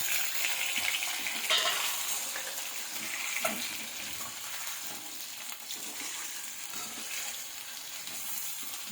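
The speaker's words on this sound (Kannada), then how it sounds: "ಈಗ ಮೊಟ್ಟೆ ಹಾಕ್ತಾಯಿದ್ದೀನಿ ನೋಡಿ." Boiled eggs go into a hot pan to fry, giving a steady sizzling hiss with soft stirring scrapes, close and continuous throughout.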